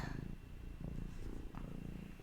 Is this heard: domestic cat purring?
yes